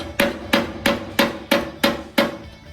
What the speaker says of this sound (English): You can bang it out and then use your hammer and tap it.